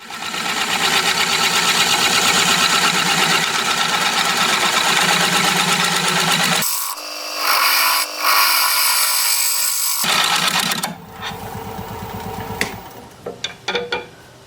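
Gravenstein apple wood being turned into a bowl on a lathe with a gouge: a loud continuous whirring hum with tool chatter, dropping out briefly midway, then resuming and trailing off into intermittent scrapes.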